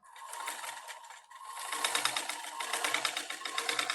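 A sewing machine double stitches the seam of a kurti in a close, rapid mechanical rattle that briefly eases then resumes more strongly and runs on steadily.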